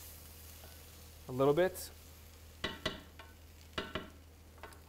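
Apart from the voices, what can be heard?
stirring flour into hot oil in a pot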